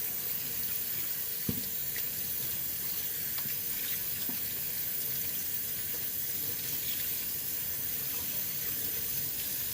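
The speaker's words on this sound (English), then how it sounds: "And then put your hands in the water." Tap water runs steadily into a sink as hands are washed, a constant broad hiss with small splashes and one brief knock near the start.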